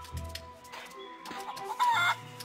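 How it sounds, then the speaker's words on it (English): Feral chicken from Plunder Island in a pirate-themed video game, clucking in short repeated bursts that build to a louder squawk near the end, close and clear over a quiet game background. "Plunder Island Feral Chicken, one of Plunder Island's most common fauna"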